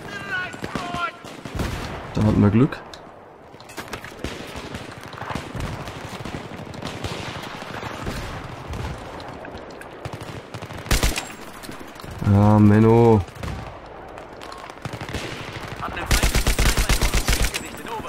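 Gunfire in the video game Battlefield 3: bursts of automatic fire and single shots, loud and close, scattered across the stretch with someone talking over the action.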